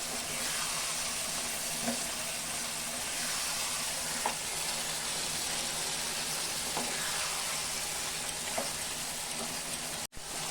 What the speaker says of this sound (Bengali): এখন আমি ভাজা আলু দিয়ে দিব, এটা দিয়েও আমি ভালো করে কষাবো